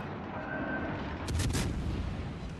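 Chapayev cruiser guns fire in World of Warships: a quick volley of two or three sharp booming shots close together, moderately loud over a steady low sea and engine rumble.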